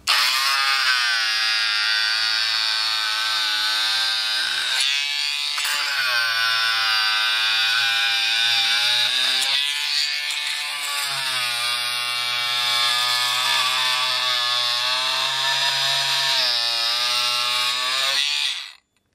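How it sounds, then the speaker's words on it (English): An oscillating multi tool fitted with a stainless steel blade scrapes silicone from a worktop and flooring, giving a loud continuous buzzing whine with small shifts in pitch as the blade meets the sealant, then stopping abruptly at the end. "we have a stainless steel blade here. So if you watch a minute and see how effortlessly it removes the silicone."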